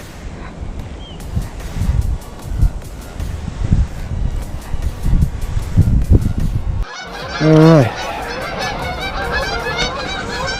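Geese honking loudly and close by beside a fishing channel during a bass fishing outing, with a burst of overlapping calls in the second half after wind buffeting the microphone; someone speaks briefly.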